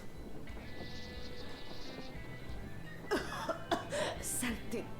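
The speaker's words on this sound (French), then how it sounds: "Je tousse encore." A character in Metro Exodus coughs in a few rough, harsh bursts in the second half, following a stretch of quieter in-game ambience and low background sound.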